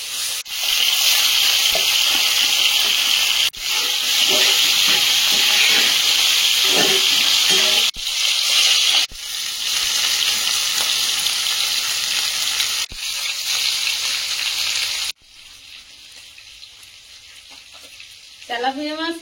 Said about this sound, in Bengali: এবার কুচো মাছগুলো ভাজতে দেবো।